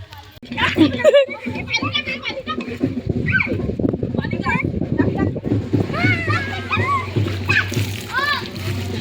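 Water splashes and splatters repeatedly as children shout and chatter excitedly close by during Holi (Dhulivandan) celebrations, the splashing rising and falling in bursts.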